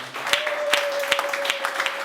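A church congregation at a Sunday worship service applauding, a steady crowd clapping with a sustained tone running beneath it, fairly close and even throughout.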